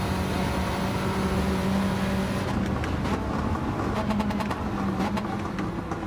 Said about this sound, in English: It is a quick tune, it's a quick car, and it sounds great.